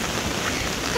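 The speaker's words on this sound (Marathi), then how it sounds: "आणि खूप सारा पाऊस" Heavy rain pouring steadily, a dense, even hiss of drops with no pauses, close and fairly loud throughout.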